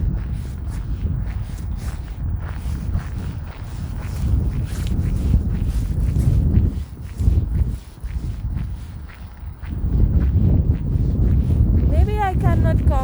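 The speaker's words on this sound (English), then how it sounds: "because it's very windy and extreme cold" Strong, gusting wind in downtown Calgary during extreme winter cold, roaring as a broad, uneven rush that swells and drops across the walk, heavy buffeting in places and a short voice near the end.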